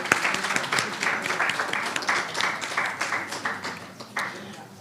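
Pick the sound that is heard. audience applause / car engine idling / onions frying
audience applause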